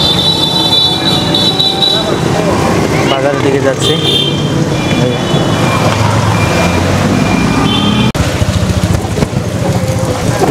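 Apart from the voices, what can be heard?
auto rickshaw ride in traffic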